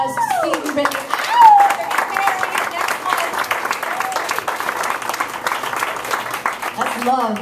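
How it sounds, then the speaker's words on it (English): Crowd at a live music show applauds an engaged couple, Steve and Brittany, with lively sustained clapping, a brief whistle and voices mixed in. "So let's give a round of applause to Steve and Brittany."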